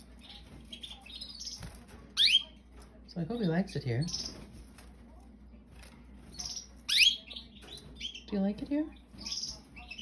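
A white canary gives bright, high chirps and short whistled tweets in a few separate bursts, with a person talking softly over and between the calls indoors.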